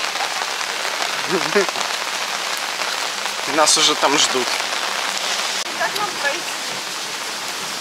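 Heavy downpour hammers down steadily in a Kyiv residential courtyard, a loud continuous wash of rain throughout, with people talking over it.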